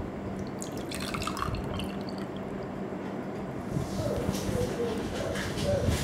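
Sugar solution poured into a container holding an egg for an osmosis experiment, a continuous liquid trickle and dripping that grows a little louder near the end, with a person talking over it.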